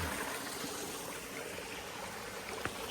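Faint, steady rush of water cascading down rocks in a garden water feature, continuous and even with a soft splash near the end.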